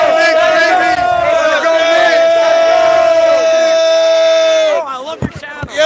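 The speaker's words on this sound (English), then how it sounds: "An elated Knicks crowd." An elated crowd of New York Knicks fans roars in loud, sustained cheering with a strong chanting, bellowing quality that drops away abruptly near the end.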